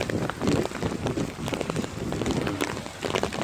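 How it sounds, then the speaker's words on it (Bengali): Rain falls steadily in a Bangladeshi village, a close, even hiss of drops pattering on surfaces with no voices. "এই বৃষ্টি হচ্ছে থামছে হচ্ছে থামছে এরকম"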